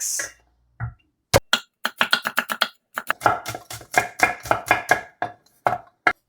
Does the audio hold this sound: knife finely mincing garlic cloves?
yes